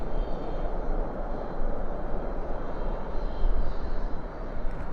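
A landing airliner rolls out at night at Dallas/Fort Worth airport with spoilers up and thrust reversers deployed, a steady loud broadband engine roar that holds throughout with slight surges.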